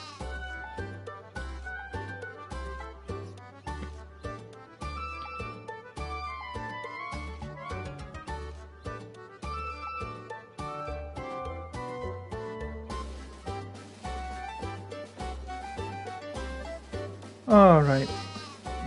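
Sheep bleating in the video game Final Fantasy III, a loud wavering bleat near the end over looping chiptune music that runs throughout.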